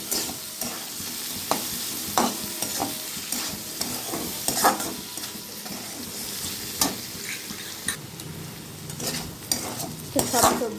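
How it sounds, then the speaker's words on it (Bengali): Nearly done capsicum and onion vegetables for poha sizzle in a pan, with irregular clacks and scrapes of a spoon stirring them up close, the frying hiss steady throughout and no one speaking. "তো সব সবজিগুলো প্রায় ভাজা ভাজা হয়ে এসছে"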